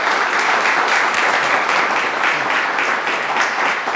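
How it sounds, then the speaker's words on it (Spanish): A lecture audience claps steadily and loudly for about four seconds, a dense, even wash of applause that fills the room without a break. "Así que, fuerte aplauso."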